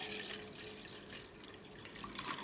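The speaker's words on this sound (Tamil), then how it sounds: "இப்போ வாட்டர் சேர்த்துக்கலாம்." Chilled water pours steadily into freshly squeezed lemon juice for a homemade lemon drink, a soft continuous trickle and splash heard alone and fairly quiet.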